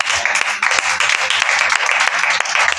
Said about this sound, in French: Je veux que tu acclames.